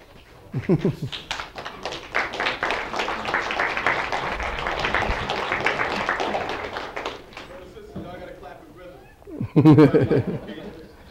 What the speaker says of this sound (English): Everybody's clapping the way they want to.